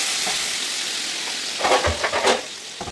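Hot tempering for lemon rice sizzling as lemon juice is poured in: a steady frying hiss throughout, then a sudden burst of louder crackling and spluttering partway through.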